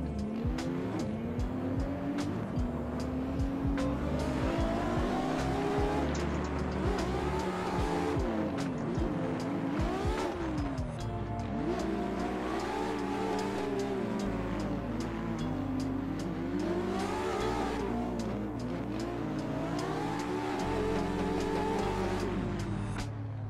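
Race car engine in a drift-style racing video game chase lap, loud and continuous throughout, revs rising and falling with gear changes and tire squeal through corners, no talking.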